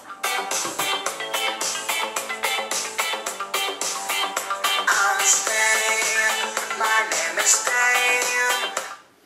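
Lively recorded music from the small speaker of an HTC One smartphone, steady and loud for several seconds before cutting off, with no talking.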